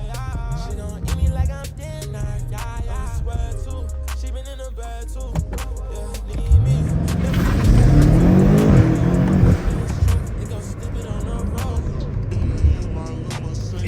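A BMW M3 launches and accelerates hard in a street race against an M5, its engine rising in a loud, sweeping rev with a brief tire squeal, then settling into a sustained roar, with some voices faintly underneath.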